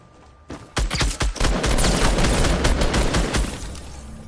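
Fortnite Battle Royale gunfire, a rapid rattle of shots starting after a short pause and building into a dense, loud stream of bursts that tapers slightly at the end, with no speech.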